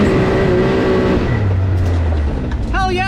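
A Can-Am Maverick X3 Turbo side-by-side runs fast on a dirt trail with a loud, continuous engine roar that shifts in pitch, while a voice comes through briefly near the end.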